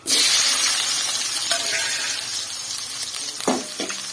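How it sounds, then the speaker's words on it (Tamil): Tomato, green chilli and onion hit hot oil with fenugreek seeds, giving a loud, steady close sizzle that runs throughout, with a few stirring scrapes near the end. "எண்ணெய் காஞ்சோன்னு வெந்தயம் போட்டிருக்கேன் தக்காளி பச்சை மிளகாய் வெங்காயம் எல்லாத்தையும் சேர்த்தே போடுறேன்"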